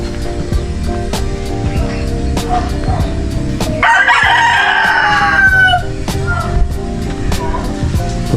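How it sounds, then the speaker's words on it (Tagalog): A rooster crows once, loud and close, in a small backyard poultry yard over a busy background of clucking hens and steady ambient noise with sharp intermittent clicks. "Para po mayroong protection dito sa mga alaga kong manok."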